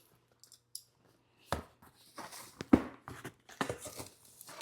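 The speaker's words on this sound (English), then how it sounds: "So just grab my knife and cut it open carefully to not cut whatever's inside" A knife slices open a cardboard box for a garment steamer, giving several short, close scraping and tearing strokes with small taps and rustles between them, fairly quiet overall.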